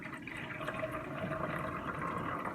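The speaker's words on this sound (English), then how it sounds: "let me pour the water in here" Warm water, heated to about bath temperature, is poured from a measuring cup into a neti pot; a steady, close trickle and splash run continuously for a few seconds with no talking.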